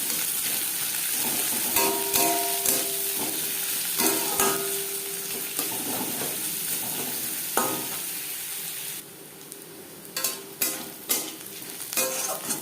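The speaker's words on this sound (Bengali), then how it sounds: "পেঁয়াজ লালচে করে ভেজে নেব।" Chopped onions fry in hot oil, browning for a jackfruit seed bharta, with a continuous sizzle under repeated scraping and stirring strokes of a spatula against the pan, and no voices.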